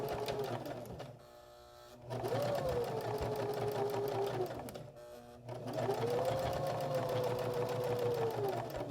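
A domestic sewing machine stitches a seam across a drawstring bag in two close, steady runs with a brief pause between them. A quieter hum fills the gap.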